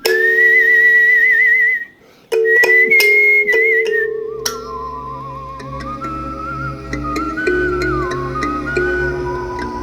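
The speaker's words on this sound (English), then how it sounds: "Any excuse to do some whistling." A person whistles a wavering melody, loud and close, over a soft musical backing, with a brief pause before the tune resumes.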